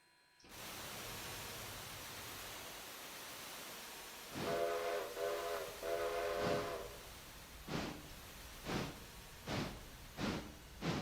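Train rumble in the railroad game Railroader, a steady low drone with a run of short rhythmic horn-like blasts in the middle and several evenly spaced chuffs or clanks toward the end.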